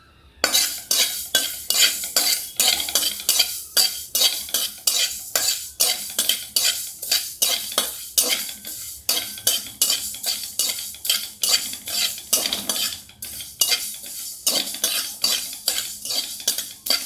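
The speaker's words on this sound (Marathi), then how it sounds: "आता आपण मेथी भाजून घेऊया." Fenugreek seeds are stirred as they roast in a hot pan, a spoon scraping in a steady rhythm of repeated strokes about once a second, close up with no talking.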